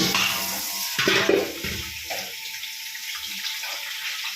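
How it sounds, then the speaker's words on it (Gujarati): Tap water pours steadily into containers being filled, a continuous splashing rush with a few brief clinks and shifts in tone as the flow hits the vessels. "તો ગાઈસ તમે પાણી ચાલુ થઈ ગયું, આપણે પાણી ભરી દઈએ."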